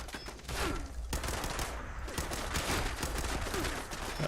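A turret fires repeatedly in Fallout 76, rapid close gunshots rattling in a steady stream with a few brief pauses, loud throughout and with no talk over it.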